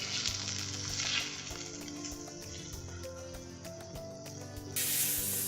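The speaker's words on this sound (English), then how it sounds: "you don't want to completely cook your pork, you literally just want to brown it a little bit like this" Pork pieces browning in a hot pan give a dense, crackling sizzle close up, with a low steady hum beneath and the hiss briefly swelling louder near the end; no one speaks.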